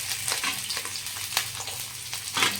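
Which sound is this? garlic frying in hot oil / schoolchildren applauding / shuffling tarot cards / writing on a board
garlic frying in hot oil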